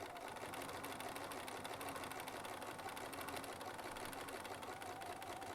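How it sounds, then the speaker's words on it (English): Sewing machine stitching around a quilt medallion, its needle running fast and steady at an even rhythm throughout, fairly quiet and close with no talking. "And now we can just sew back to that other side."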